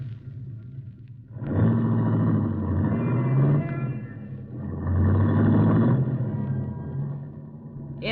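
A long yellow convertible rumbles close by, its engine swelling twice in broad revving surges with a quieter idle between them, no voices over it.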